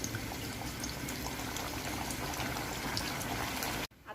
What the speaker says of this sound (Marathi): आता कट केलेले हे आता मी तळून घेते।